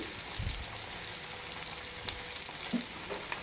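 Onion, potato, tomato and chili sizzling in a pan for veg biryani, a dense continuous frying hiss with occasional stirring clinks, close with no talking.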